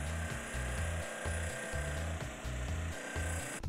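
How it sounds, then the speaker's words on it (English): Grinding a small plastic part of a stock carburetor needle assembly from a DR650 motorcycle, a steady close rasping drone pulsing in regular strokes for several seconds with no talking. "grind this little bit of plastic so it'll change where it sits in the carby"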